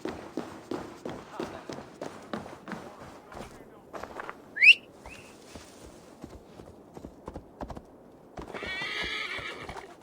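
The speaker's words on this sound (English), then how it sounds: "The horses are very scared in this game." Horses in the video game Assassin's Creed Valhalla clip-clop in a steady trotting rhythm, then one lets out a loud, shrill whinny midway, followed by a brief burst of galloping hooves near the end.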